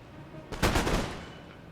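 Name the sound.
riflemen firing a musket volley in Empire Total War video game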